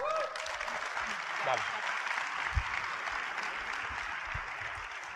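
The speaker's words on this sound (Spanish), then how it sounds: "De verdad, dese un aplauso." A seminar audience in Colombia gives a steady, sustained round of applause, a dense wash of clapping with a few faint voices underneath.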